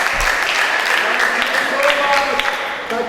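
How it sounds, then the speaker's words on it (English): Audience applause at an inter-school debate fills the hall, steady and dense, with voices mixed in throughout. "You just clap back. Clap."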